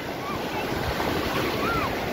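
Storm waves on the Black Sea shore in Bulgaria, between Sunny Beach and Sveti Vlas, roll and crash in a continuous broad roar mixed with wind rumble, loud and close, with no talking.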